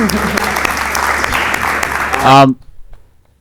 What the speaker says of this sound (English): So you guys give him another round of applause.